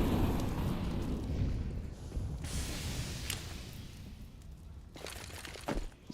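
A grenade bursts in a Counter-Strike match at a professional tournament, a muffled boom under steady crowd and game ambience, followed by a couple of sharper cracks and debris clatter near the end.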